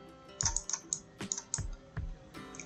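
Crisp, close clicks of a computer keyboard and mouse, a quick irregular series of taps with short pauses between, no talking.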